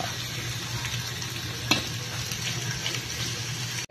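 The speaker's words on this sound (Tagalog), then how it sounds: "Sangkutsahin muna natin para lumabas yung mantika." Pork intestines sauté in a pan to render their fat, giving a steady, moderate sizzle and frying crackle with one brief sharper clatter midway.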